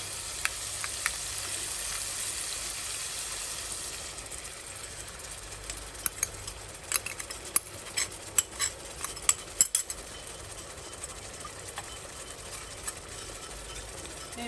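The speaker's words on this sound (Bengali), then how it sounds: "এখন দিয়ে দিব গ্রেভিটা, যে গ্রেভিটা আমি বানিয়েছিলাম" Homemade gravy poured over a fish fillet frying in a pan gives a steady, soft sizzle, with occasional sharp crackles and pops scattered through the hiss.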